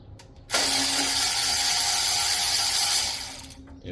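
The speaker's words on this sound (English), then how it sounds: "if you get one of these electric ratchets, it'll change your life." An electric ratchet whirs steadily for about three seconds after a short pause, loud and close, while working on an oil pan gasket job on a D-150 truck, then cuts off.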